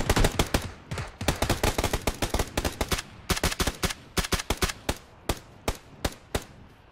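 Rapid bursts of gunfire from the video game Grand Theft Auto, sharp cracks firing in quick volleys then spacing into single shots, fairly close and loud with no talking over them.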